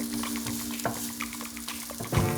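Tofu burger slices frying in oil in a pan, a steady crackling sizzle close up, with soft scraping and clicks of stirring and a brief louder hiss near the end.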